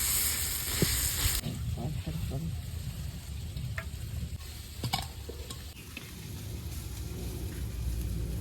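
Tomatoes frying in a pan in a village kitchen, a steady sizzle with stirring scrapes and occasional clinks, fairly close and continuous throughout with no talk.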